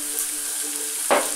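Pumpkin and shallot fry in melted butter in a pan, a soft, even sizzle that jumps into a louder hiss near the end as the pumpkin goes in, with no voices.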